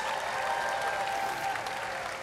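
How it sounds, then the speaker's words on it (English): Audience on a cruise ship breaks into a steady, dense round of applause, a continuous wash of clapping heard from within the crowd, moderately loud and even throughout. "Let's give these guys a huge round of applause of encouragement here, folks"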